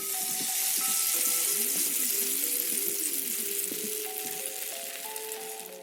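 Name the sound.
oil sizzling in a pan, sound effect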